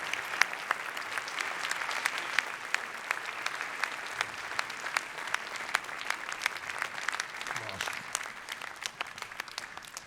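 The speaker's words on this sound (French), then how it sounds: "un tonnerre d'applaudissements pour nos lauréats" An audience applauds award winners at an entrepreneurship network's evening celebration in northern France. Dense, sustained clapping from a large crowd fills the room for about ten seconds, with no talk.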